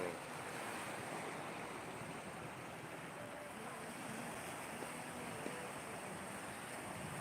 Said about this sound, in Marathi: इथे ज्या लाटा आहेत तुम्ही पाहू शकता शांत लाटा आहेत